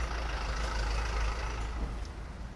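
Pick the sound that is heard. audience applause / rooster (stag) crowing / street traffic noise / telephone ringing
street traffic noise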